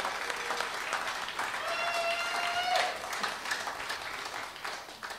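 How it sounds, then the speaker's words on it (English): An audience at a live band concert on South Parade Pier applauds the band's trombone player. Dense, sustained crowd clapping runs throughout, with faint voices and a brief tonal note rising above it. "Let's give him a big round of applause."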